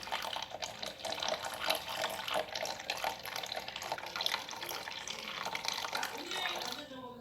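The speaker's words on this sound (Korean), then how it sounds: "우선 청소기 물탱크에 물을 붓고" Tap water runs steadily into the water tank of a steam mop, a constant close hiss and splash lasting several seconds, with a faint gurgle near the end.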